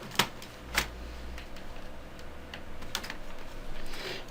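Plastic clips on a laptop case click sharply as the panels are pried apart during a wireless card upgrade: a few separate snaps over faint handling noise.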